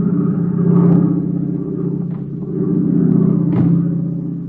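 A failing airplane engine in an old-time radio drama sound effect drones low and steady, swelling and sagging slightly in loudness with a brief thump near the end, and no voices.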